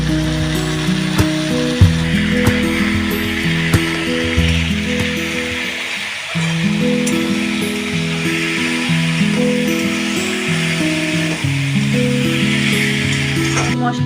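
A paste of garlic, tomato, chili, ginger and onion frying in a pan, giving a steady loud sizzle with a constant mechanical whirring hum running underneath.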